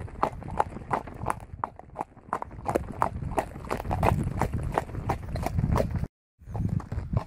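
A horse trots at a ranch, its hooves striking in a quick, even clip-clop rhythm, close and clear, with a brief gap near the end.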